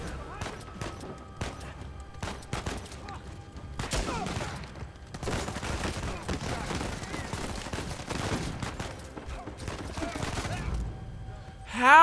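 Rapid bursts of gunfire in Uncharted 4: A Thief's End, crackling in dense volleys of varying loudness with a faint voice underneath.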